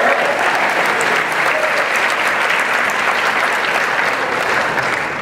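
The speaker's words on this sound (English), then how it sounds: "How about a round of applause for our senior ambassador" An audience at a medallion ceremony claps steadily and loudly, a dense wash of applause filling the room for several seconds without pause.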